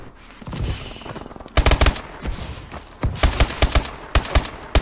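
Gunfire in Call of Duty: Advanced Warfare, loud close bursts of rapid automatic fire in short rhythmic volleys, several clusters of sharp shots heard alone without talk.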